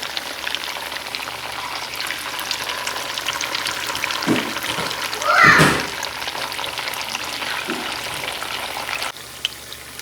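Pitha cakes fry in a pan with a steady, close hiss of bubbling oil that swells briefly midway, then drops slightly quieter near the end; no one speaks.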